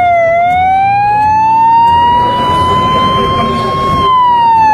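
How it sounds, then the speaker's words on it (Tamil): An ambulance siren in wail mode sweeps slowly upward and back down in one long cycle, loud and close, with a voice talking over it. "ஆம்புலன்ஸில் சைரன் இருக்குது அப்படின்னு தெரியும்."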